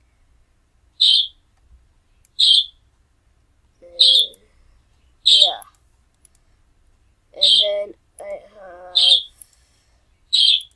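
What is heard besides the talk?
pet bird chirping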